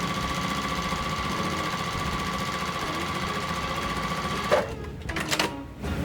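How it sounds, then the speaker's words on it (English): A sewing machine stitches two quilt block pieces together, running as a steady, close mechanical hum for several seconds, then stopping and starting in short bursts near the end. "Take this one, sew it together."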